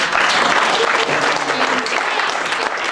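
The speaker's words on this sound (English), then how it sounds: "Let's give him another round of" Dense, sustained applause from a crowd gathered at a memorial service celebrating a woman's life, steady and fairly loud throughout with no pauses.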